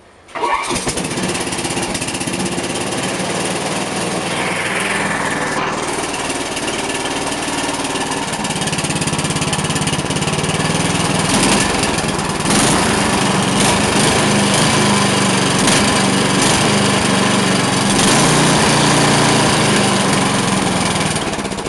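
A roughly 1992 Briggs and Stratton lawn mower engine, primed and slightly warm, starts and then runs steadily and loudly up close for the whole stretch, its steady drone rising in pitch a little partway through.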